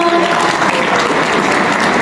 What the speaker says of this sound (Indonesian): Tepuk tangan dong teman-teman.